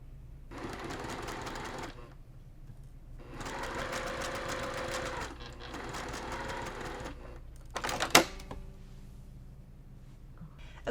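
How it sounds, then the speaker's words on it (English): A sewing machine stitches a cross-stitch mug rug from corner to corner in three close bursts of rapid mechanical whirring with short pauses between, followed by a sharp clunk and quiet. "We're going to go to the sewing machine and stitch from corner to corner."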